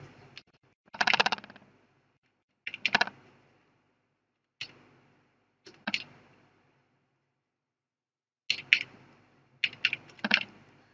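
A computer keyboard is tapped in short, quiet bursts of clicks, several keystrokes grouped together and separated by silent pauses, as an ID number is entered.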